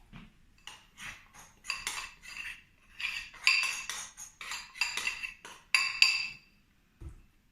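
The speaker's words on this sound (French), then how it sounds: "On mélange notre sucre." A utensil scrapes and clinks against a bowl while sugar and almond powder are stirred together, in quick irregular bursts of metallic taps, close up with no talking.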